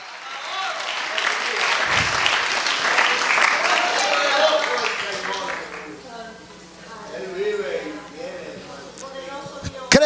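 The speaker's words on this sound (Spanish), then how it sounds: "Dele fuerte el aplauso al Señor." A church congregation applauds during a fervent Spanish-language sermon, a sustained wash of clapping for several seconds that fades into quieter sounds with voices.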